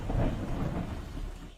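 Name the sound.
thunderstorm in TV show The Last of Us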